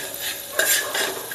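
Mutton kheema bhurji being stirred in a pan: a spoon scrapes and sweeps through the mince over a soft background sizzle, with a couple of brighter scraping strokes, close and fairly quiet, no talking.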